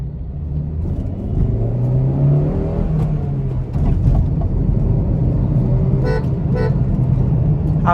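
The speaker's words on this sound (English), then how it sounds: "aftermarket horn sounds quite good." Aftermarket horn on a Honda City i-vtec, third generation, sounding as a steady tonal blare for several seconds over a constant engine and road rumble, with a few short clicks near the end.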